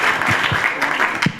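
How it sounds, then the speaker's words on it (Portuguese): An audience applauds after a law lecture, with a burst of fairly loud, dense clapping. A few voices briefly murmur underneath. "Pode aplaudir."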